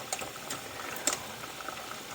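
Salted water boiling in a kitchen pot, stirred with a spoon before spaghetti goes in: a soft, steady bubbling hiss with a few sharp clinks of the spoon against the pot, heard close and alone.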